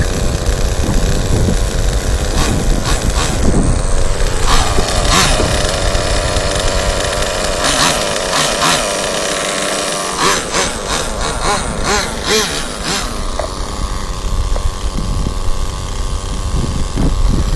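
A nitro-powered HPI MT2 G3.0 RC monster truck engine runs steadily at idle, a continuous buzzing drone with a few brief blips in pitch, close and fairly loud throughout.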